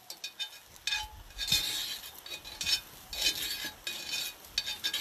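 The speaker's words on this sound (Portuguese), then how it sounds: "Enquanto vocês vão vendo o Raí mexendo" A pot of a hibiscus recipe being stirred with a utensil, giving repeated scraping and clinking strokes in an irregular rhythm, close and moderately loud.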